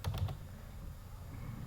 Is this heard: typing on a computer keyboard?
yes